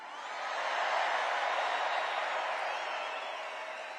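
Dense roar of a large arena crowd cheering all the way up to the rafters, a steady wash of sound swelling slightly and then holding without clear claps or voices.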